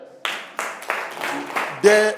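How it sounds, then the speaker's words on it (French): Several people clap for a student in a French lesson classroom: a short burst of close, loud, irregular claps, swelling briefly at the end. "On peut applaudir pour elle."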